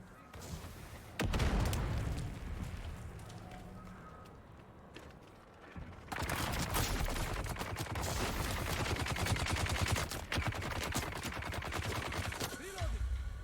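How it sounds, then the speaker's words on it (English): A grenade blast and bursts of gunfire in the video game Dune: Awakening come as sharp cracks and rattling volleys, loud and dense across most of the stretch, with a quieter lull in the middle. "Ooh, grenade."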